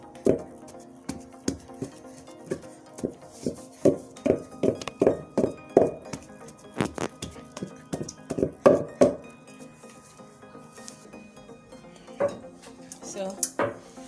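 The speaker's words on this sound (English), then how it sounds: "So you can see my yam is being pounded." A yam is pounded in a mortar while Ofe Nsala white soup with catfish is being made. The blows come as a steady run of dull, knocking thuds through the first nine seconds, then thin out into a few scattered knocks.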